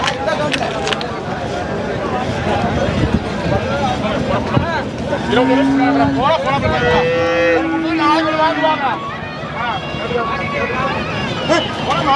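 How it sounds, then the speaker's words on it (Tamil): Cattle low and moo repeatedly at the Kangeyam cattle market in Kundadam, drawn-out calls rising over a busy crowd murmur, with people talking close by. "இன்னும் மாடுகள் வந்துட்டு இருக்குதுங்க."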